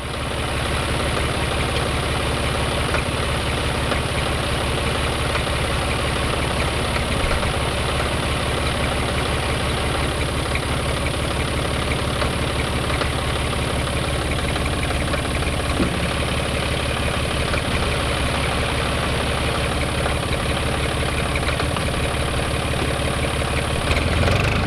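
An older tractor engine pulling a hay rake through a mountain meadow in Wyoming, running with a steady, loud, low idling drone and a slight knocking rumble, continuous and close throughout with no voices.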